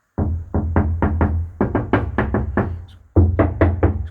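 Knuckles rap on a bare, undeadened cab panel of a Scania 143M V8 truck, giving a hollow, tinny knock; about fifteen quick close-up raps come in three bursts, with no talking over them.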